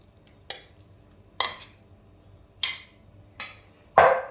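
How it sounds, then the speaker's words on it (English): Utensil stirring fried shrimp and bananas in a pan, five sharp scraping strokes at an uneven pace over a low background hum, close and loud, no talk. "Give it a nice blend, mix everything equally."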